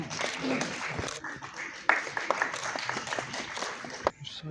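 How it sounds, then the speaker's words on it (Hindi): An audience applauds at an inauguration of a Maharashtra-Jammu & Kashmir friendship chapter, a steady spatter of many hands clapping, fairly close, with a few sharper claps and voices mixed in. "जोरदार तालियां"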